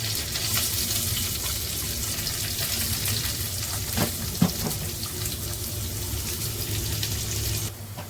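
Onion and garlic frying in a pan, a steady loud hiss and crackle of sizzling oil that runs unbroken for several seconds, with a faint clink near the middle.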